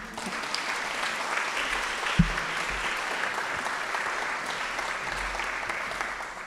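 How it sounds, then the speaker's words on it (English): A roomful of guests at a fellows' closing dinner applauds in a steady, even wash of clapping that runs the whole time at moderate loudness, with one brief thump partway through. "That's worth another round of applause, right?"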